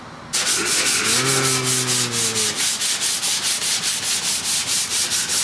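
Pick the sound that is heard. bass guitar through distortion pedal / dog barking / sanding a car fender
sanding a car fender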